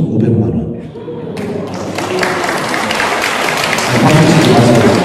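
An audience at a Catholic parish Bible lecture breaks into loud, dense clapping that builds and sustains across the hall, with a voice speaking faintly at the start.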